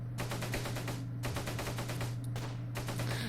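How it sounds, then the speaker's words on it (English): Bursts of auto cannon fire rattle in the World War II strategy game Close Combat, three rapid strings of shots separated by brief pauses over a low steady battlefield hum. "It has some sort of an auto cannon there. Those auto cannons are pretty lethal."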